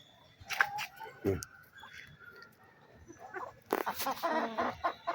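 Chickens cluck and squawk close by in short, irregular bursts, with a louder flurry of clucking toward the end.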